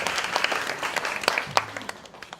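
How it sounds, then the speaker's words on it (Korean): Applause from the audience at a youth unification debate final, a crowd clapping steadily at moderate volume, fading slightly toward the end. "참여의 박수 부탁드리겠습니다"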